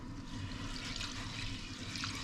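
Rice is washed and stirred by hand in a bowl of water, a continuous close swishing and sloshing with small splashes, steady throughout and free of speech.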